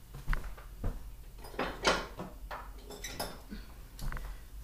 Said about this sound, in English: I'm gonna go grab my spoon